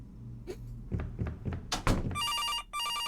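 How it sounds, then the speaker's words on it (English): A few dull thunks and knocks indoors, followed by a telephone bell ringing loudly in two bright trilling bursts separated by a short gap. "Phone's ringing."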